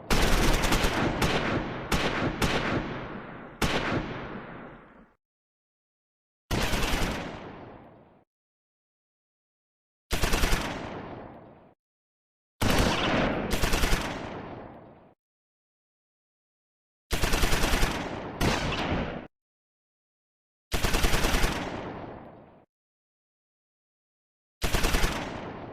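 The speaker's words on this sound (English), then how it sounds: "Firing dies down." Machine guns and rifles fire in the Close Combat 4 video game, set at Echternacht in the Battle of the Bulge, 16 December 1944. Sharp, loud bursts arrive in separate clusters, each followed by a decaying echo, with short silences between them.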